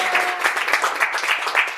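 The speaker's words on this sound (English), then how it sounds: "Round of applause." A small indoor group clapping for the arrival of pizza, brisk uneven applause for under two seconds, close and moderately loud.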